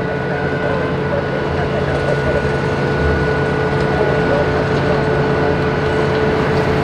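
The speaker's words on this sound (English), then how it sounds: "There's a APU in the background and construction noise." An aircraft auxiliary power unit runs steadily at an airport, a constant whine and rumble with construction noise mixed in behind it, heard from a distance without break.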